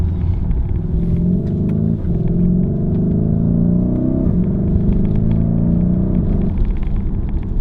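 A Lamborghini Urus SUV driving fast on a road gives a loud, continuous engine roar from inside the cabin, with the pitch rising and falling as it accelerates and shifts, and no talking over it.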